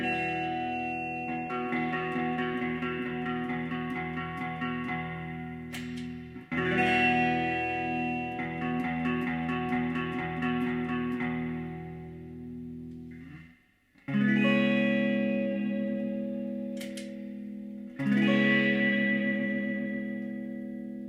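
Electric guitar played through a Fender '63 reissue reverb unit with an original pan and a Tube Town Surfmate with an Accutronics spring pan, sustained chords washed in lush, splashy spring reverb, strummed loud with brief pauses between phrases.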